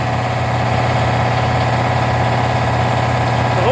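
A replacement Harbor Freight air compressor pump runs with its motor spinning slightly fast, giving a loud, steady, close mechanical drone with a rapid pulsing chug and no pauses.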